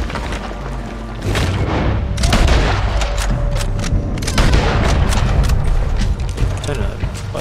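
Cannon fire during a chaotic shootout in the video game Red Dead Redemption 2: repeated booming blasts and crackling gunfire, loud and close, with excited voices shouting over the battle.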